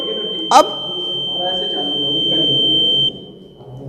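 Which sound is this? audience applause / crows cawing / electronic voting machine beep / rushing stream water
electronic voting machine beep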